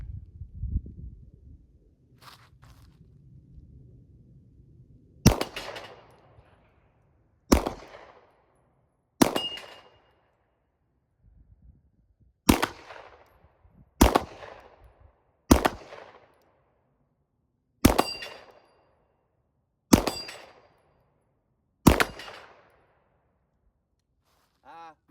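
A Ruger Mark IV Hunter pistol is fired outdoors at steel targets 25 yards away. Nine or ten sharp, loud single shots come at irregular intervals of one to three seconds, and faint talk is heard early on.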